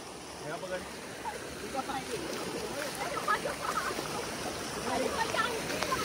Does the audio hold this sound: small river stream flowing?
yes